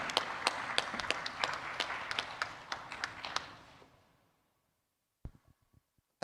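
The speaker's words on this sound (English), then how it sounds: "I would appreciate if you put for a round of applause for them before they start answering to some of your questions." A small conference room audience gives a round of applause for a panel at a financing forum. Scattered, fairly close claps fade out over about four seconds, followed by silence and a few stray taps.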